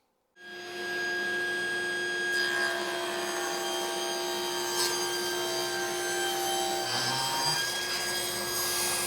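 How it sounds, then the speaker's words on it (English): A table saw rips the rough edge off a board during milling, with a feather board holding the stock tight against the fence; a steady, loud whining hum runs from start to finish after the motor kicks on. "we can rip off this rough edge on our board and complete the milling process"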